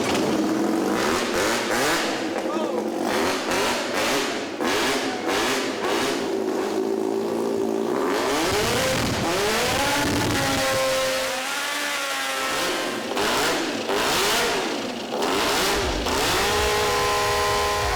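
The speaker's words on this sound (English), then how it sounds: "The engine is ready for its first firing." An engine fitted to a DeLorean hovercraft fires up for the first time, a loud, sustained roar that rises and falls in pitch as it revs, filling the space with steady mechanical noise and no talk.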